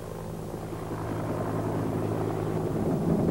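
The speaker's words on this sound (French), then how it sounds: "L'hélicoptère l'emporte et survole la ville pendant quelques minutes très intenses." A helicopter's steady rotor thump and engine drone over a city, growing slightly louder as it passes overhead, with no voices.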